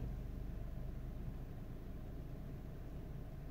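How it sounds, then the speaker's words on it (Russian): A Lexus UX idles in neutral with a steady low engine hum and a faint, continuous buzzing rattle from the dashboard, with no voices. "Не могу понять, что за тарахтелка в панели."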